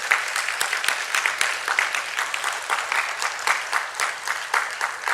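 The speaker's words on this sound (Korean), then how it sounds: "우리 하나님 감사의 박수 올려주시면 좋겠습니다" A church congregation at a Methodist seminar applauds in thanks to God, a steady mid-level wash of many hands clapping that continues unbroken for several seconds without speech.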